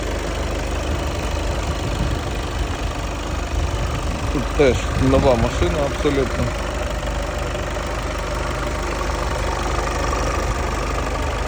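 A warmed-up 2.0-litre diesel engine in a VW Passat B8 idles in a steady low rumble throughout, with someone talking briefly over it.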